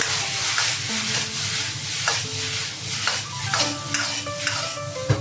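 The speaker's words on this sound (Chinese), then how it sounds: "最后加进黄瓜丁、翻炒一堆" Pork, diced cucumber and other diced vegetables tossed in a hot wok over high heat, with a steady sizzle and a series of sharp scraping clicks as the spatula stirs, close and continuous.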